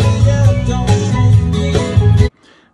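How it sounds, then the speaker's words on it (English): Bright, ringing steel-drum-like notes from a guitar effects unit play a short melodic phrase, up close and loud, then stop abruptly into near silence. "laying down a little bit of steel drums, pan drums"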